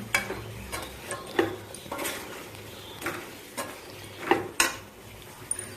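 Masala powder is mixed into Telugu-style chicken pickle, with a series of separate scrapes and soft knocks of a spoon against the vessel, spaced irregularly and heard close against a quiet background.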